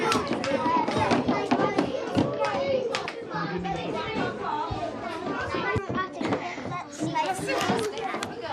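Primary school children in a music class clap out a rhythm pattern, sharp irregular hand claps scattered among the children's chatter and voices, close and lively.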